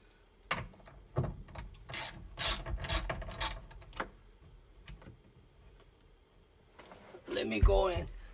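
Ratchet wrench with an 8mm socket turning a screw on a Lexus LS 400, giving a series of quick clicking bursts close by, with a louder scraping rattle toward the end and no talk.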